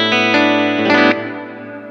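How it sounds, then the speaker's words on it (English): Electric guitar run through a Marine Layer modulated reverb pedal, a few strummed chords ringing out loud with a wide shimmering wash that decays slowly into a lingering tail. "So we added the Marine Layer reverb pedal."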